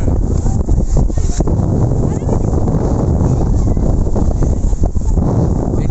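Strong wind buffets the microphone on the seashore at Cape Comorin, Kanyakumari, a steady loud roar with gusty rumble throughout, while people talk over it.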